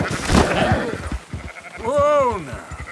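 Sheep in Red Dead Redemption 2 give a wavering bleat near the end, following a stretch of rustling game sounds with someone talking over them.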